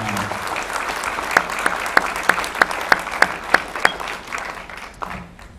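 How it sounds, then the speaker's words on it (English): An audience at a county sheriff candidate debate applauds the two candidates, a burst of crowd clapping with a few sharp, louder individual claps that fades out after several seconds. "I just want to also give these two candidates a round of applause from all of us for their debate tonight"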